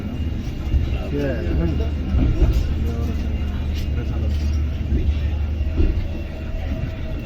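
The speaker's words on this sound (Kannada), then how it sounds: "ಡಿಲೇ ಆಗಿ ಟ್ರೈನ್ ಫೈನಲಿ ಅರಸಿಕೆರೆ ಜಂಕ್ಷನ್ಗೆ ಬರಕ್ಕೆ ನೋಡ್ರಿ" A train rumbles steadily into Arsikere Junction station platform, with heavy low engine noise and clattering, while people talk nearby over it.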